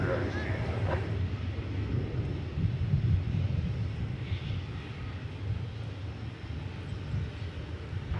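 American Airlines flight 665 airliner taxiing at Dallas-Fort Worth airport, a low continuous engine rumble at moderate distance with some wind buffeting, under occasional talk.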